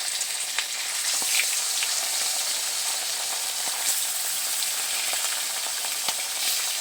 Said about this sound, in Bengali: তেল গরম হয়ে গেছে, মাথা দুটো আগে দিয়ে ভেজে নিচ্ছি।